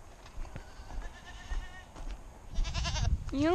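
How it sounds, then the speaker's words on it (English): Goats on a small farm bleat for feed, a few loud wavering calls building toward the end over rustling movement and background noise, close by. "by this point the goats are shouting at me to come feed them"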